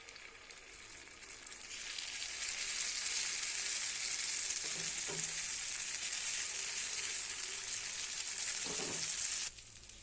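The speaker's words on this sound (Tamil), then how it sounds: "எண்ணெயும் சூடாயிருச்சு. இதில் கொஞ்சம் கொஞ்சமாக மாவை ஊற்றிக்கலாம்." White paniyaram batter sizzles and fries loudly in hot oil in a pan, a steady crackling hiss building up and continuing close by, with a few faint clinks, no talk.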